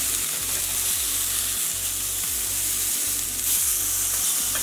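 Sirloin steaks sizzle steadily in a hot pan, a loud continuous frying hiss with crackling spatter and low kitchen rumble underneath, no talking.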